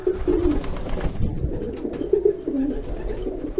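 Pigeons cooing nearby, soft low throaty calls repeating at irregular intervals over faint background noise.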